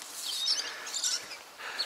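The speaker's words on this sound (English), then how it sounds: "We've got the birds, parrots." Parrots call in an outdoor garden with frangipani flowers and ducks nearby: faint, high, scattered chirps and squawks come from a distance over a soft background, with no talking.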